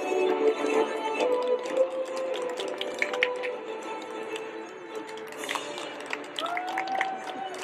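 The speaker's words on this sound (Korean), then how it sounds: "한 분 한 분 격려의 박수를 부탁드리겠습니다." Seniors at a village award ceremony applaud in encouragement with steady, scattered claps of moderate loudness, while voices murmur and talk in the room.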